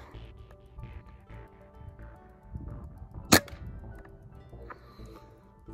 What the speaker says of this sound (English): I've shot pistol.